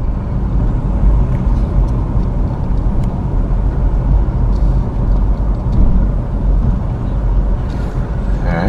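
A car drives through a small town in Missouri's Bootheel, heard from inside as a constant loud road rumble and engine drone, with occasional faint ticks and clicks and no voices.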